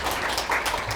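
An audience at a university research-cluster presentation day gives a short round of dense, steady applause, fairly loud and close, lasting about a second.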